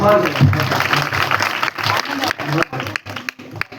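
An audience at a Hindi comic poetry performance claps in a loose burst of applause, mixed with voices, then the clapping thins into scattered claps.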